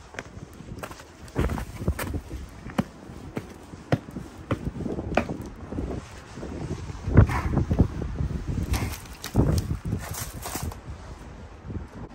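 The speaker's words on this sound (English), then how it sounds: "It's so windy right now." Strong wind buffeting outdoors beside a car being loaded, gusty rumbling noise throughout with scattered footsteps and thumps close by.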